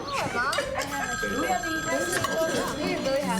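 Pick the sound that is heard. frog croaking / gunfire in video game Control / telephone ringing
telephone ringing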